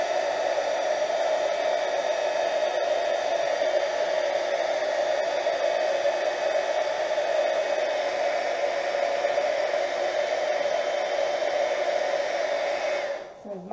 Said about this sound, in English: So I'm going to hit it with the gun again.